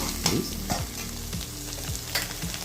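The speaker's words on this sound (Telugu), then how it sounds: "నేను ఇప్పుడు ఎగ్ వేస్తున్నాను కాబట్టి కొంచెం ఫ్రై చేస్తున్నాను" Short burst of frying sizzle as egg fries in masala, with a few spatula scrapes and stirring knocks against the pan, close and fairly quiet, no talking.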